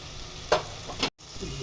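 Ground spices such as Kashmiri red chilli, turmeric and coriander powder sizzle in hot oil for a turnip gravy, with a couple of quick stirring scrapes over a low steady frying hiss and a brief drop to silence near the end.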